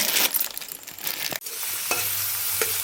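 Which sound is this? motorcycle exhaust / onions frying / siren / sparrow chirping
onions frying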